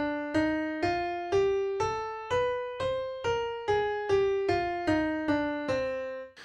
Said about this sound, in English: Now the melodic minor scale,